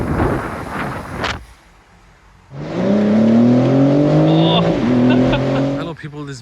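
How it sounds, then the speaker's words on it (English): A 2023 BMW M4 Competition G83 Cabriolet drives on open roads, first a short burst of engine noise, a brief lull, then a loud sustained engine drone with a shifting pitch that dips and climbs. "today I'm taking this amazing chalk BMW M4 Cabriolet on for a review and for a drive"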